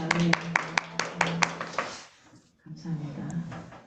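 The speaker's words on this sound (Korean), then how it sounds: "하나님께 환영박수 올립니다" Church congregation clapping in welcome during a Korean Sunday service, a loose run of sharp claps for about two seconds that trails off into a brief hush, followed by low room murmur and talk.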